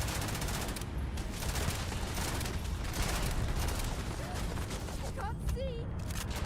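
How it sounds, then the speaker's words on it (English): Enemy gunfire in the space shooter Starfield, a dense, continuous rattle of automatic shots with booming impacts that never lets up, while a player says a few words over it. "hide behind boxes and wait for them to stop shooting"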